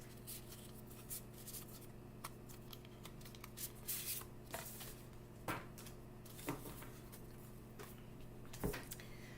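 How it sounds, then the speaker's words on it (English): Tarot cards are shuffled by hand in a quiet room, giving soft, irregular riffles and papery flicks over a low steady hum, with sharper snaps every second or so. "One last good shuffle."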